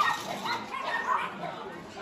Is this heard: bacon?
no